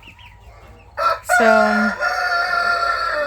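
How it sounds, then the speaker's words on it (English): Backyard chickens near a broody hen and her hatched chicks, with Australorps and Easter eggers in the flock, giving a loud, close, drawn-out crowing call after a few short squawks; one brief spoken word comes at the start. "I've got this broody hen."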